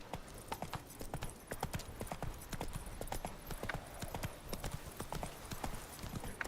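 Roach, a horse in The Witcher 3 video game, gallops with steady rapid clip-clop hoofbeats, loud and close, continuing throughout with game ambience underneath.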